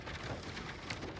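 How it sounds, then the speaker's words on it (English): Steady, heavy rain pours down outside an Airstream 22FB Sport travel trailer in a dense, continuous hiss, with no voices. "It's coming down in buckets out there."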